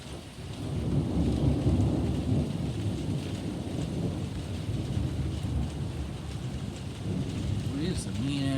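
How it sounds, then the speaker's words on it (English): A severe thunderstorm with strong wind pours heavy rain on surfaces while deep thunder rumbles continuously, loud and close, with a brief voice near the end. "We have some mean ass storms now."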